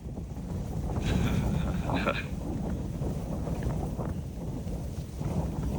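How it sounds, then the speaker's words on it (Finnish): Wind blows steadily during a storm on a camping trip in Sarek, making a constant low roar with rumbling buffets against the microphone, and voices talk faintly underneath. "Se tuulee vähän tosta suunnasta."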